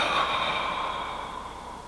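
A patient breathing out during an extra-oral physiotherapy exam, one long steady exhale close to the microphone, fading gradually.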